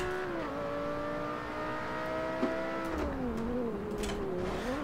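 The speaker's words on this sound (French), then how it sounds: "Ah, écoutez-moi ça comme elle ronronne cette voiture." A car engine in the racing game Forza Motorsport 7 hums smoothly at a steady pitch, rising and dipping slightly as it revs, with a brief click midway.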